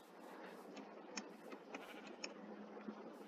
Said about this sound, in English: Oh, I hear that sheep still.